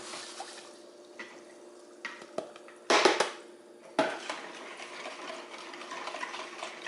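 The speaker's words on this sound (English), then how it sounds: "Let me just get this dissolved real quick." Curing salt being stirred into a gallon of water, soft sloshing and swirling of liquid with a few sharper clinks and splashes from the utensil against the container, close and quiet.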